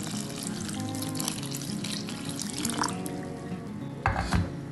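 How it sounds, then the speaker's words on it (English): Water streams and splashes steadily into a bowl to dissolve plantain fufu flour, with a soft gurgle and a brief louder splash near the end. "So I'm going to add water, okay, and begin to dissolve it."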